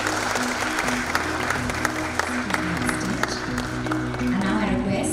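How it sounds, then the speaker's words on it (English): Audience applause at a BSE listing ceremony for Anand Rathi as a guest is called on stage: sustained crowd clapping with a voice speaking over it and a steady low hum underneath throughout. "Let's have a huge round of applause for him,"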